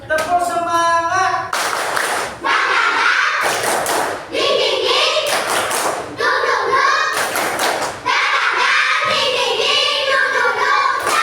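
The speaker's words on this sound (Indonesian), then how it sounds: "Tepuk semangat." A class of children does a rhythmic group clapping chant, with loud unison claps in patterned bursts alongside chanted voices, then short pauses between sections.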